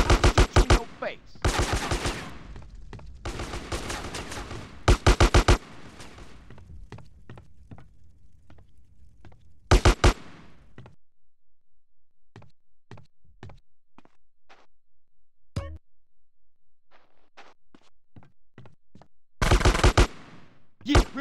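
Gunfire in GTA San Andreas mobile gameplay: sharp bursts of rapid automatic shots come in clusters separated by quieter gaps that hold a few scattered single shots and thuds, with a final burst near the end.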